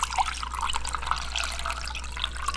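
About a cup of water is poured onto flour and sodium carbonate while making wild-ingredient ramen noodles, a close, bright, bubbly splashing and gurgling over a low steady hum with no talking.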